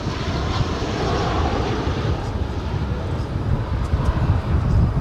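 Frontier Airbus A321 jet taking off at Dallas-Fort Worth airport, a steady loud broadband engine roar with low rumble and some wind buffeting, sustained throughout without speech.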